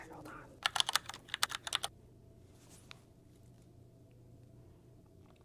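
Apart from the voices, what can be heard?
typing a password on an iPad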